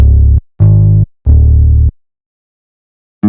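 Deep bass notes sound alone in three sustained, loud hits of about half a second each, followed by a pause and the start of a fourth note, with clean, abrupt starts and stops.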